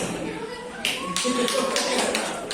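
Schoolchildren clap their hands together in a classroom, a busy patter of claps building after a quiet start, with voices mixed in.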